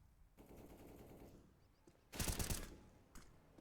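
In Counter-Strike, a Galil rifle sprays in rapid automatic bursts, moderately loud. A heavier burst comes midway, then a single short crack near the end.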